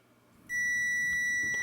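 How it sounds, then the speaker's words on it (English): Multimeter on the ohms continuity setting gives a sudden, loud, steady electronic beep that starts after a brief quiet and holds unbroken, close up, during an alternator test. "you want to get it on the ohms buzzer"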